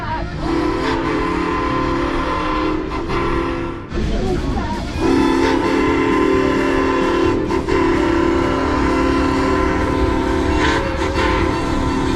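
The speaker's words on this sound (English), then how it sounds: "The train is moving." A train rumbles steadily along nearby, loud and continuous, with a sustained whistle tone sounding over the mechanical noise.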